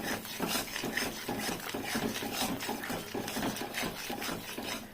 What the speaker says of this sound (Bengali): এটা একটু ঘন করে নাড়বো